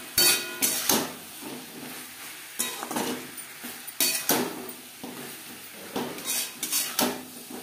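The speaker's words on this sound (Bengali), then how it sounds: "আলুর সাথে মশলা বেশ ভালো করে মিক্স করে দেবো" Potatoes being mixed with spices, green chilli paste, turmeric and salt in a cooking pan, with repeated close metal scrapes and clinks of a spoon in irregular bursts over a soft sizzle.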